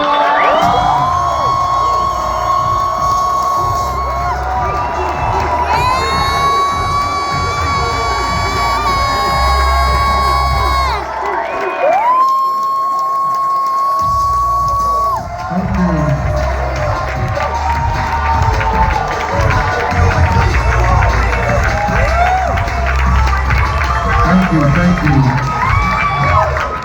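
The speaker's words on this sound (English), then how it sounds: "let's stand up, and give a big, screaming, whistling to Marshall" A large audience cheers, screams and whistles loudly for Marshall Faulk at a Lion Wealth Builders event, a sustained dense roar of shouting voices with sharp whistles rising over it, continuous for the full stretch.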